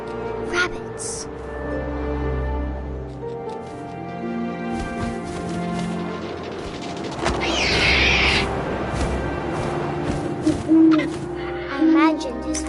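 An owl hoots in the video game What Remains of Edith Finch, with deep repeated calls over wind and ambient game sound, and a voice talking over parts of it.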